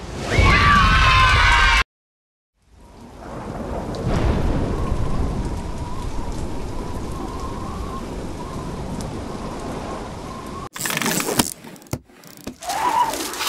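Steady hail and rumbling storm noise fill the middle, bracketed by loud bursts and a short silent gap, like a heavy pelting hailstorm.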